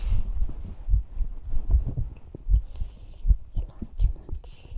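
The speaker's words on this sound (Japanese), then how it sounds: "自分の心臓の音を聞いて" A close-up heartbeat pulses in a steady, slightly uneven rhythm of soft low thumps, heard intimately as in ASMR, with faint breathy whispering hiss between beats.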